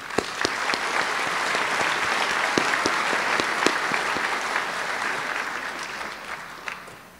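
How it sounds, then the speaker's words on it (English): A crowd at a middle school promotion ceremony gives sustained, dense applause lasting several seconds and tapering off near the end; a few brief voices are faintly mixed in. "Graduates, let's show our appreciation for all our biggest supporters with a round of applause."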